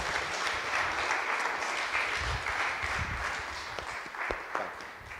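A church congregation breaks into sustained applause for two graduates, a dense, even roar of many hands clapping that holds steady for several seconds.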